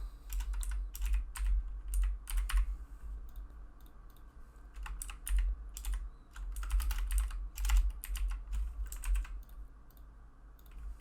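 Bursts of typing on a computer keyboard while entering code for a Node.js and MySQL tutorial, close and distinct clicks in quick uneven runs separated by short pauses, with no speech.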